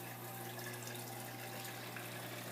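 Reef tank sump with a protein skimmer running: steady flowing, bubbling water over a constant low pump hum, close and unbroken.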